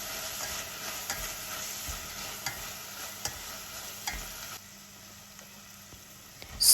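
Vegetables for a lentil cream soup are stirred and fried in a pan, giving a steady, moderately quiet sizzle broken by soft scraping stirs, with no talking.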